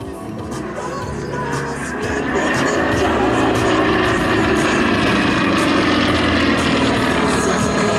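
A Sukhoi 26 aerobatic airplane flies at an air show, its propeller engine a steady loud drone that swells after a couple of seconds and holds, with broadband roar throughout.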